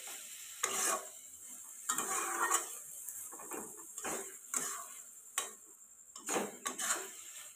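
Grated carrots being stirred in milk in a pan for gajar halwa, a series of soft scraping strokes with short gaps between them, close and fairly quiet, with no talk.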